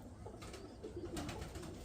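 Low pigeon coos from loft birds sound softly and repeatedly close by, set against a steady rustling outdoor background with no talking.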